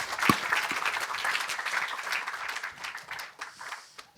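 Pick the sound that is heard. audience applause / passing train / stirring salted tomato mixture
audience applause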